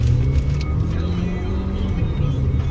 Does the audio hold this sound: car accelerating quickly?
yes